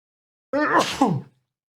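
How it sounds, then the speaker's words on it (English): A single short, sharp sneeze bursts out close by, with a quick breathy intake before it and silence after. "I start sneezing again."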